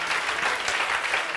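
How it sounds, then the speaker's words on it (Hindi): Congregation at a church service clapping loudly for Jesus, a dense, steady wall of applause from many hands throughout, with no voices standing out. "सब लोग जोरदार यीशु के लिए ताली मारेगा"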